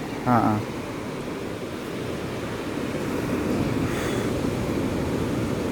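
Steady roar of surf washing ashore, continuous and broad, with a brief burst of voice near the start and wind noise over the microphone.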